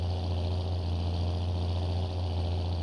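Large, powerful tractor engine in Farming Simulator 22 idles with a steady low drone and faint knocking rumble, constant and fairly loud with no talk.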